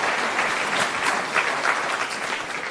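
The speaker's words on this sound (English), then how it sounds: "Round of applause, please, for Dr." A town hall audience gives a steady, dense round of applause, many hands clapping together at an even level throughout with no talk over it.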